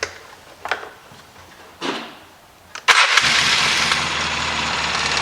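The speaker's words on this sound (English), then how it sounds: "So we're going to start it up here." Polaris Sportsman 700 AWD ATV being started in a workshop after a repair. A couple of short cranking attempts come first, then the engine catches and settles into a loud, steady, close idle.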